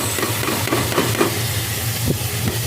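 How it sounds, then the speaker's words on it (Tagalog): Garlic and onion sauté in a pan with a soft, steady sizzle, accompanied by a low background hum and a few light stirring clicks. "So, yung gisa ko po yan sa bawang sibuyas."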